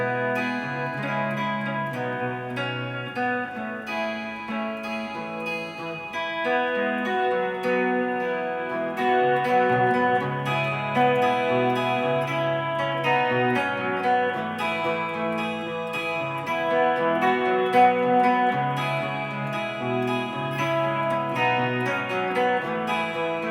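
Slow acoustic guitar rendition of a song, strummed with upward strokes that still catch the bass notes, steady and full at a relaxed pace, played alone without talk.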